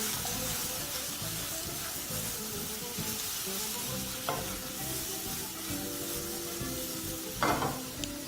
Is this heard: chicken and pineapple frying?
yes